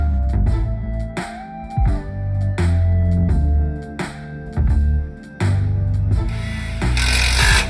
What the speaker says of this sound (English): Using an impact driver, securely fasten the 5/16 self-tapping screw.